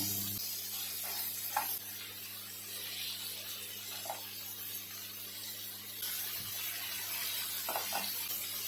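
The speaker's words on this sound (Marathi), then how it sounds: "इथे थोडे आपण बोंबील आणि थोडे पापलेट तळून घेऊया" Bombay duck and pomfret fish fry in hot oil in a pan, giving a steady close sizzle with a few faint clinks and no talk.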